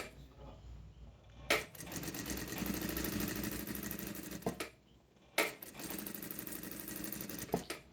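A sewing machine stitches a seam on a fabric bag, running in a steady close whir with short sharp backstitch bursts and a brief pause between runs.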